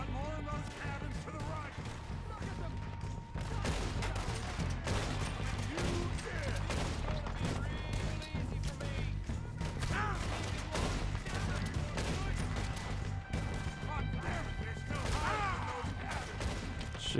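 Gunfire in the Red Dead Redemption 2 video game: repeated sharp shots and bursts over a rumbling game soundscape, with someone talking throughout.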